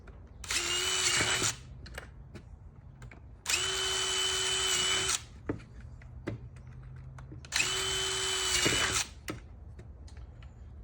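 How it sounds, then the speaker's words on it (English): Power drill boring with a 7/32 drill bit while building a DIY barrel sifter for dirt and compost, three loud whirring bursts of about one and a half seconds each, separated by quiet pauses with light handling clicks. "And the drill bit is a 7/32."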